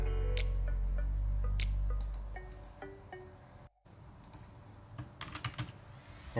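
Computer keyboard typing while testing text entry in Photoshop CS6, a loud burst of clicks then sparser, quieter key taps with a brief gap, picking up again in quick clusters of keystrokes near the end.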